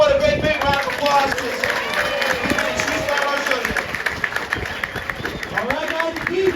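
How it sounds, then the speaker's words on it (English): An audience at a Gatorland alligator show claps and cheers in a sustained round of applause, fairly close and loud, with a voice talking over the crowd. "keep that round of applause up for your regular show"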